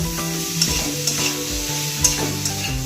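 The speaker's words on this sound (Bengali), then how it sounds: "যে মাংসটা এখন মা পেঁয়াজ দিয়ে একটু ভালো করে ভেজে নিচ্ছে।" Meat frying with onions in a pan, marinated with salt, turmeric and chilli powder, for a homemade dish: steady close sizzle with repeated scraping stirs of a spatula against the pan, no talking.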